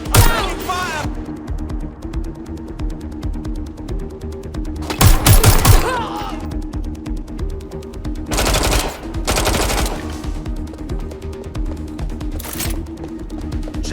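Machine-gun bursts in the video game Watch Dogs Legion: several loud, sharp automatic volleys break out at intervals over a low rumbling background, with voices talking in between.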